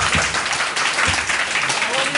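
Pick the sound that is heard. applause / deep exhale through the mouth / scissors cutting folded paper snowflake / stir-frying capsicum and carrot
applause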